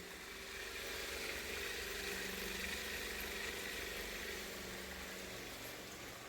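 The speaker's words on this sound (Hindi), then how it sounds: "ये स्विच दबाया, ये चालू हो गया है, आवाज सुनिए।" A homemade RO water purifier with RO, UV, UF and mineral stages, mounted under a basin, runs with a steady, even motor hum and pump drone, constant and close throughout with no talking.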